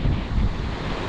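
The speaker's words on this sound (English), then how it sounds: "I'm looking beyond the shore brake for cresting waves" Ocean waves break in the surf at the shore, a close, rumbling wash buffeted by wind on the microphone.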